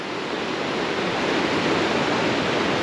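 River water rushes steadily at the confluence in Karnaprayag, Uttarakhand, where a blue stream meets a muddy one, a dense close roar that holds even and continuous throughout with no voices.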